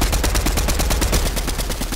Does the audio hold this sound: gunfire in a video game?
yes